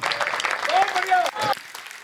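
Brief, sparse clapping from an audience at a Hindi comic poetry gathering, heard for about two seconds and mixed with a speaking voice.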